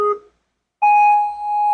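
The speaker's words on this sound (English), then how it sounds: "You're going to stay on that platform until you hear this countdown." A ninja obstacle course timing system gives countdown beeps: one short, lower electronic beep, then after a pause a longer, higher-pitched tone that holds steady and clear.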